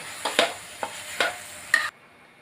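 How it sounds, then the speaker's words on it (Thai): Minced fish for Thai larb stir-frying in hot oil in a pan, with several sharp scraping stirs and bursts of sizzle close by, followed by a sudden cutoff into near silence. "หอมมากเลยครับทุกคนลวนน้ำมันนะครับ ใกล้สุกแล้วนะครับ"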